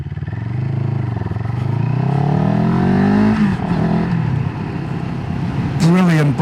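CFMoto 700CLX Sport motorcycle engine accelerating, the revs rising loudly through a gear, then dropping back and climbing again briefly near the end, with a rider talking over part of it.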